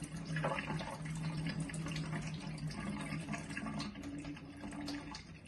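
Rice is rinsed with water that runs and splashes steadily nearby, as if in a bowl or under a tap, continuous and fairly quiet.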